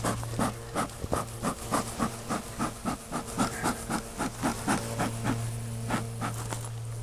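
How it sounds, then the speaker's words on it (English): Honey bees swarm around a hive feeder, a buzzing drone broken by regular rhythmic puffs, probably from a bee smoker, with a steady low hum underneath. "Still got plenty of bees down in the feeder."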